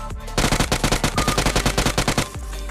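Automatic gunfire in the PUBG Mobile video game on the Erangal map, a loud, close, rapid burst of about twenty evenly spaced shots lasting around two seconds.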